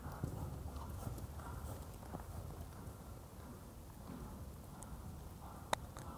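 Hooves of a dressage horse performing four-time tempi changes, soft rhythmic clip-clop thuds on an arena surface heard at a moderate distance, with a sharp click near the end.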